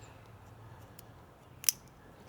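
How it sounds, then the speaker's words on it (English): A sharp metallic click as metal pins slip off metal inside a Dodge Ram lamp socket, a single brief snap standing out over a quiet low hum. "That sound was not me breaking something, it was just the metal sliding off of"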